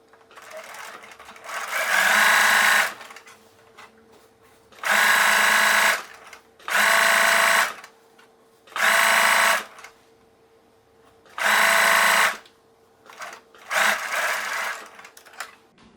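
Sewing machine stitching a parallel seam on a blouse, running in six separate loud bursts of steady whirring with short quiet pauses between them, close by and with no talk over it.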